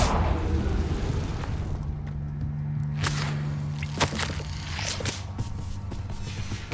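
A Confringo fire spell erupts in a Harry Potter video game as a series of sharp, whip-like blasts and pops over a steady ambient drone, with the loudest bursts bunched in the middle and later part.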